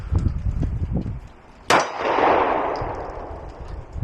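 A single sharp gunshot from a SIG P365 pistol fed by a converted P250 magazine, loud and close, cracking out after a quiet pause and trailing into a long, broad ringing decay.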